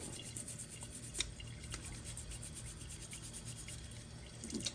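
A part from a Wolf stove rinsed under a running tap, a faint, continuous hiss of flowing water with small splashes and scrubbing noises.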